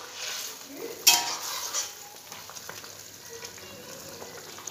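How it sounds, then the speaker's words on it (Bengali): Thin fish curry broth with cauliflower and potato bubbling in an uncovered pot, a steady soft hiss and simmer with a sharp clink near the start and small scattered kitchen knocks. "ঝোলটা ফুটে গেছে।"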